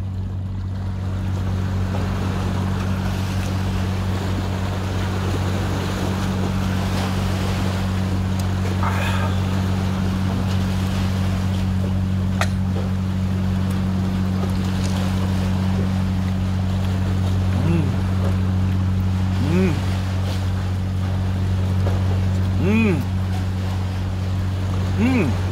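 Waves and wind at a seaside make a steady, broad wash over a low droning hum, with a voice talking faintly now and then.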